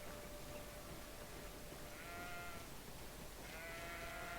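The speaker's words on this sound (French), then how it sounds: "On entend les moutons." Sheep in the video game Greedfall bleat faintly through a steady background hiss, two or three drawn-out wavering calls heard at a distance, with no talking.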